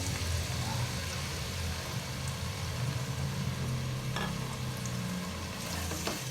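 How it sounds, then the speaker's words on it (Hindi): Two medium onions frying in a cup of oil in a pan, a steady close sizzle with occasional stirring scrapes and clinks. "एक कप ऑयल में 2 मीडियम साइज के प्याज ले लिए हैं।"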